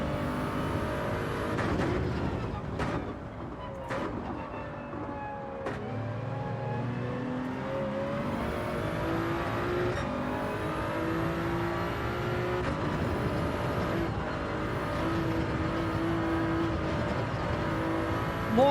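Engine roar of a car drifting through a section in Gran Turismo 7, steady loud revving with shifting pitch and tire squeal, continuous throughout with no talk.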